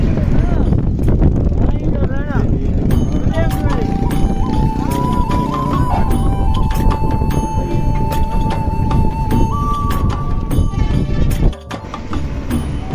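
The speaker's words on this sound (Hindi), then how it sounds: "हेड पंज नंद पानी की वजह को हवा बहुत ही शदीद तेज है" Strong, gusting wind at the Head Panjnad river headworks, roaring and buffeting loudly and close against the microphone for the whole stretch, dropping briefly near the end, with a faint steady whine underneath.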